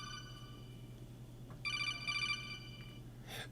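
A Metal Gear Solid codec call tone used as a phone ringtone plays in two short electronic ringing bursts of rapid warbling beeps over a steady low hum, fairly faint.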